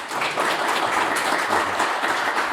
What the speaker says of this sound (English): a quick round of applause for the panel members